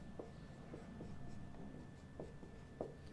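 A pen or pencil writes numbers by hand, giving soft, faint scratching strokes and a few light taps, with no voices.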